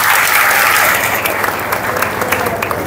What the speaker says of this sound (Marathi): याच्यासाठी टाळ्या वाजवा.